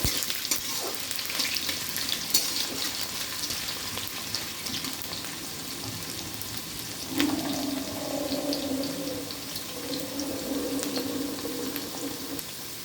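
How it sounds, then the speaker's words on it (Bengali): Potatoes fry in a pan with a steady, moderate sizzle and crackle, with brief stirring scrapes and a few faint tonal squeaks partway through. "আলুটাকে একটু ভেজে নেব"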